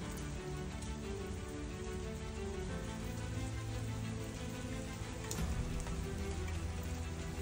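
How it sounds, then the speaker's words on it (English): Steady rain from Hurricane Milton in Central Florida patters on a surface, a constant dense drizzle of drops with a low background hum and no voices. "Okay, so it's just steady rain."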